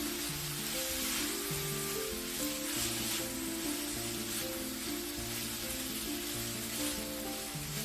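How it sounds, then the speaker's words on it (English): Vegetables seasoned with salt and pepper sizzle and fry steadily in a pan, a dense, even hiss with no talk over it. "we're going to let those cook down for a few minutes until they're nice, soft, and slightly translucent"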